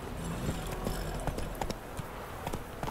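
Hooves of Roach, a horse in The Witcher game, clip-clop in a steady trotting rhythm, close and fairly clear over a low ambient game background.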